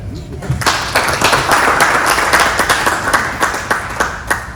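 An audience of seniors at a fraud awareness session claps, sharp individual claps forming moderate applause that holds steady for several seconds at close range.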